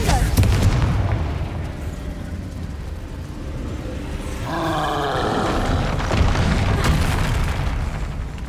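A Confringo blasting curse in Hogwarts Legacy bursts into a loud, roaring explosion, with booming rumble and crackling debris sustained over several seconds, a second surge swelling near the end.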